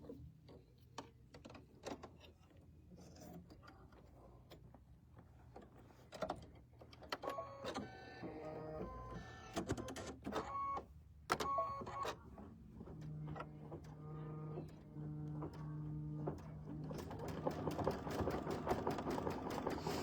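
An embroidery machine stitches a flower design in light yellow thread, a rapid steady mechanical ticking and whirring that runs throughout at low to moderate level, close by.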